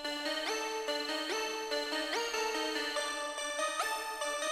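Bright, harmonically rich keyboard synth chords with distortion and reverb, playing a stepped sequence of sustained notes that shift pitch about every second, with a washed-out tail between them and no voices.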